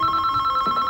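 Telephone ringing in a home, a steady electronic ring with a sustained tone, close and moderately loud, heard alone.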